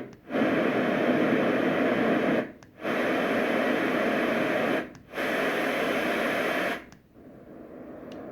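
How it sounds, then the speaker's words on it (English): Steady broadband white noise from a LectroFan Evo machine, loud and even, playing in three long stretches separated by brief gaps, then dropping to a fainter, thinner hiss. "And these are building towards pure white noise."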